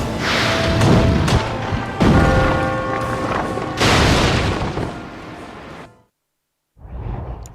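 Gunfire and heavy booming blasts from Resident Evil: The Darkside Chronicles on PS3, loud and repeated in bursts for about six seconds. The racket then cuts to silence before another short burst.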